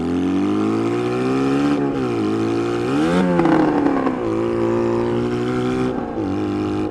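A motorcycle with a faulty gearbox that slips out of gear into neutral rides with a steady, close engine drone. The revs rise and fall repeatedly, with sudden pitch dips where the gear drops out.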